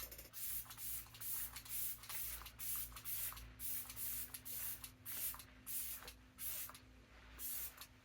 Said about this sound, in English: we're just going to go in with some setting spray. We're going to lock it in.